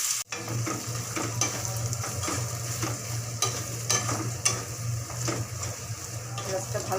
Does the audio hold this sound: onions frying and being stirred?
yes